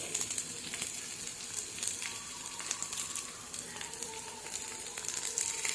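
Chopped ginger and garlic fry in a pan with a steady, soft crackling sizzle and occasional faint stirring, continuous and close with no talking.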